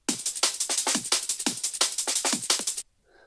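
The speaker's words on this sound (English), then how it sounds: "the main break used to sound like this" A punchy drum and bass drum break loop with crisp snares and hats in a steady, driving rhythm, cutting off abruptly near the end to a faint tail.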